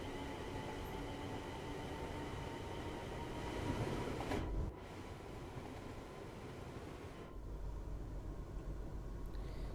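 A Class 350 electric multiple unit runs along the West Coast Main Line between Birmingham and Crewe in Train Sim World 6, giving a steady faint rolling rumble and hum with a brief louder swell midway and no voices.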